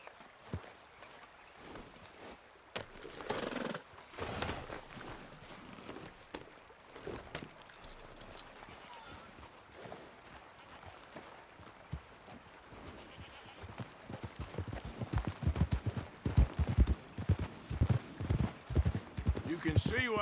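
Horse hooves clip-clop at a walking pace in Red Dead Redemption 2, growing louder and closer in the second half, with voices talking over them.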